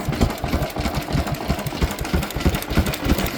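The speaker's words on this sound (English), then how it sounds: "The oil pump and fuel pump working together." An early Lister H type stationary engine runs steadily nearby, its oil pump and fuel pump working together with a rapid, even mechanical chatter and knocking pulse and no voices.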